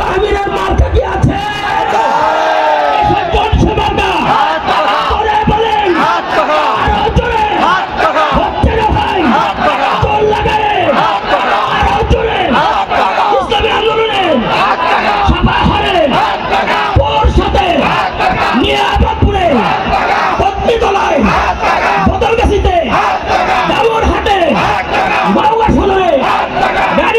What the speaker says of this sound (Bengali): হাত পাকা যাদের কাছে আছে একটু স্লোগান দিতে পারবো?